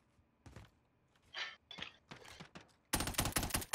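Gunfire in the video game Warzone: several scattered shots early, then a loud, dense burst of rapid automatic fire in the final second, with no talk.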